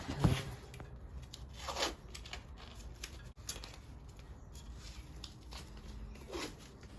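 Masking tape torn from the roll and pressed onto a Toyota Hilux differential, a few faint quick rips separated by quiet handling noise.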